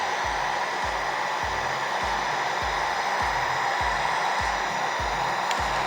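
Heat gun on its low setting warming a kitchen island countertop, a steady close blowing whoosh with a faint pulsing flutter underneath, running evenly throughout.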